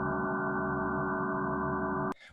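Sonified spectrum of a star-forming galaxy rich in hydrogen and helium: a steady, dense stack of sustained tones holding loud and unchanging for about two seconds before cutting off abruptly.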